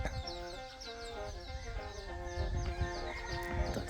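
Chickens clucking around a rural village in Khammouane, Laos, several birds calling in irregular overlapping bursts at moderate distance, with steady outdoor background ambience and no talking.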